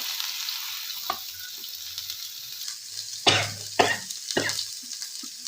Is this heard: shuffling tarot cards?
no